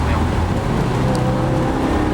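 A 2016 Subaru WRX engine while driving, a loud, dense cabin drone of engine and road noise with steady rumble, continuous and unchanging over the short stretch.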